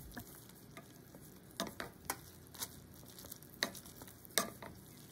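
Instant ramen noodles being mixed with powder sauce in a pot, with quiet irregular clicks and taps from the utensil over a low, faint simmering background.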